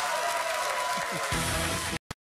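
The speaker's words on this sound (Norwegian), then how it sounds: "Gi han en stor applaus" Studio audience applause on the Norwegian TV2 show Zebra Showman after a singer's appearance, a broad steady clapping under a host's voice and music, cutting off abruptly near the end.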